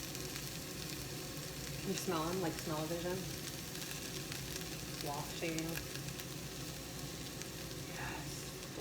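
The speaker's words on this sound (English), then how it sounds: "These peppers look amazing. Check them out. But they're still sizzling." Peppers sizzle in a hot pan, a steady crackling hiss running throughout beneath people talking over it.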